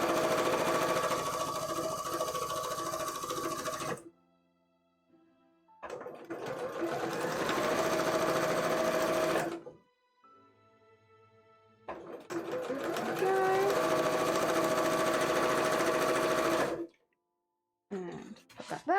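Sewing machine stitching a seam on a cosplay costume, running loud in three long continuous bursts with short pauses between them and brief quiet handling at the end.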